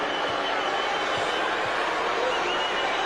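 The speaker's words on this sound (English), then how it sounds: "This crowd's been bouncing all afternoon." Loud, steady roar of a packed basketball arena crowd at a 2002 NBA playoff game between the Boston Celtics and Philadelphia 76ers, a dense continuous wash of cheering with faint bounces beneath.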